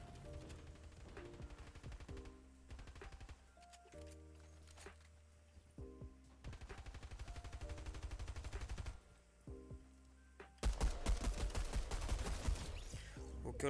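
Bursts of gunfire from a blue pistol in Fortnite Chapter 3, rapid repeated shots mixed with game effects and music, growing louder and denser toward the end.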